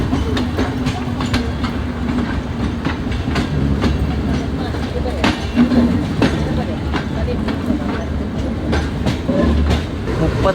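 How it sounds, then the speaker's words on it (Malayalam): Vijayawada–Chennai Vande Bharat express train arriving at a station, a steady loud rumble of wheels with rhythmic clicks over rail joints throughout, with faint voices mixed into the background. "ഏതോ ഒരു വന്ദേ ഭാരത് കയറി വരുന്നുണ്ട്"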